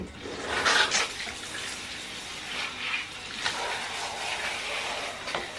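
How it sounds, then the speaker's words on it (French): Water running over hair during a rinse, a steady soft wash of flowing water with faint splashy swells, close and without talking. "Là, on va venir la rincer."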